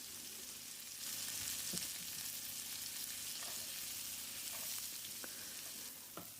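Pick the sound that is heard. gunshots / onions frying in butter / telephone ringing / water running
onions frying in butter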